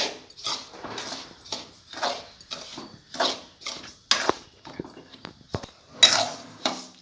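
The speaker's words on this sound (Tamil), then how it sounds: "இந்த மாதிரி நல்லா ரவையை வறுத்து எடுத்துக்கலாம்." Semolina (rava) roasts over low heat in a pan for rava laddu, stirred with steady scraping strokes; rhythmic scuffs and clicks of the spoon against the metal pan are close and fairly loud, with quiet pauses between.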